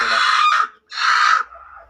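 A hen that pecks hard, sitting on eggs in a crowded nest at a home in Chavara, Kollam, gives two loud, drawn-out harsh cackling calls close by, separated by a brief silence.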